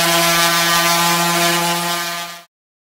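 A power sander works over a wooden bench, giving a steady, loud droning whine with strong harmonic tones that holds for about two and a half seconds and then cuts off abruptly.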